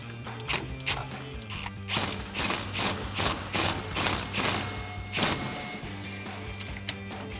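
A 13mm socket wrench ratchets to tighten a K&N Blackhawk cold air intake on a 2016-2022 Toyota Tacoma, making about eight quick, rhythmic bursts of close-up metallic clicking over a low background hum.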